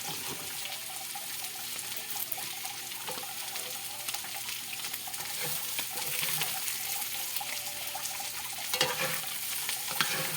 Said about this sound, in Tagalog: luto na natin yung sunod natin tong repolyo.